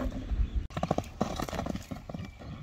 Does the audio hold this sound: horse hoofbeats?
yes